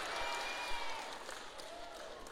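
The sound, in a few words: audience applause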